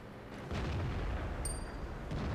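An HE shell slams into a tank in World of Tanks, a deep booming impact followed by a low rumbling tail that fills the clip, with a brief high metallic ring partway through.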